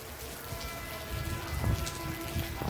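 Steady rain falls outdoors in a rural setting, a soft, even patter with a few louder drops landing nearby.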